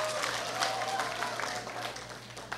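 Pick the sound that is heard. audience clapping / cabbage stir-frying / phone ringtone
audience clapping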